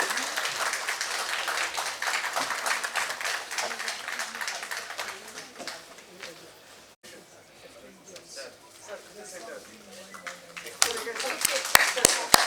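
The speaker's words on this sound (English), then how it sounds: "A loud round of applause" Audience applause for a hospital critical care department head at a foundation day event, moderate clapping that thins out midway, with a voice speaking over the room and a few sharp claps near the end.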